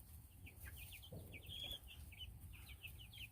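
Freedom Ranger chickens cluck softly in a pen, with repeated short, trilling calls scattered close by over a low background hum.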